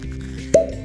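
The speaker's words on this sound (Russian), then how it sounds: "Добавлю-ка в сковородку немного, догадались, коньяка." A single short liquid splash and sizzle as a splash of cognac hits a hot frying pan of meatballs, over a steady background frying hiss.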